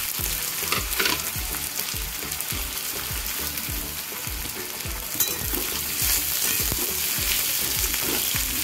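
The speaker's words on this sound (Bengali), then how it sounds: "এবার আমি পেঁয়াজগুলোকে প্রথমে ভেজে নেব" Onions fry in hot mustard oil in a kadai for a fish korma. A loud, continuous sizzle is broken by repeated scraping and stirring strokes, with no talk.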